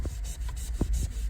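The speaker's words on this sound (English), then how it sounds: "Just a little bit of scrubbing, and this Mr. Clean Eraser got it right out." Mr. Clean Magic Eraser scrubbed back and forth over marker on a wall, a soft steady rubbing with a few firmer strokes, close and alone for about a second.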